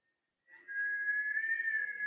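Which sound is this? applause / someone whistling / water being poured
someone whistling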